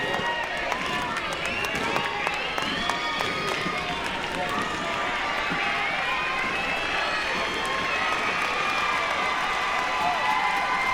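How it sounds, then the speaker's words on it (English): LSU Tiger crowd at a women's softball game against Auburn: a steady, loud wash of cheering, shouting and clapping that swells slightly toward the end, with a commentator talking over it. "this is the loudest I've heard this Tiger crowd here this year"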